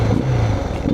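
A Suzuki DR 650 motorcycle engine with a poorly tuned carburettor sputters and hesitates before climbing into a rev, loud and close, with a low uneven throb through the short burst.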